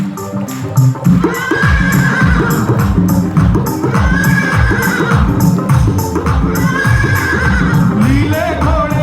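A horse-neigh sound effect played loudly at a live devotional music event: repeated shrill whinnies recur every couple of seconds over a dense bed of clip-clopping hooves.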